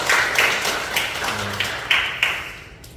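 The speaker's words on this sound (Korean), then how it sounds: "우리 축하 박수 한번 하시죠" A church congregation at a Sunday service claps together, a dense even patter of applause with a few louder individual claps, gradually thinning toward the end.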